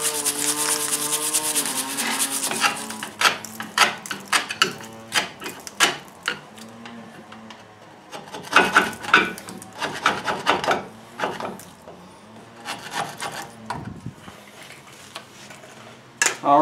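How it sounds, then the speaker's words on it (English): Wire brush scrubbing and scraping brake parts on a 2004 GMC Sierra 1500 pickup, heard as bursts of harsh gritty metallic rasping in irregular strokes, close and fairly loud, over a faint background tone. "So I'm going to get in, use the wire brush on this a bit"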